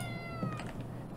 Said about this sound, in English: Quit meowing at me.